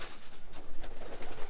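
Roller pigeons coo softly inside a loft, a low murmuring of several birds close by, steady and unbroken over a short stretch.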